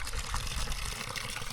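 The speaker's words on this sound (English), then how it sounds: "fill your cup" Fresh mineral spring water pours into a cup from a mountain spring in Morocco, with a steady close splashing and trickling that runs through the whole moment.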